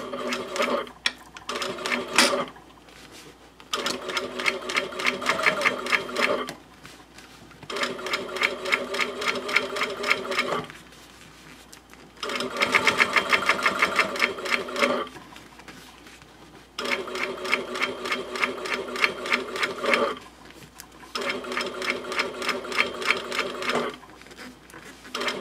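Sewing machine stitching a bag seam on a wristlet pouch, several bursts of fast, even whirring stitches separated by short pauses, close and clear with a steady low hum beneath.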